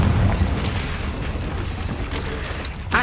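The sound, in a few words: Confringo explosion spell in Hogwarts Legacy video game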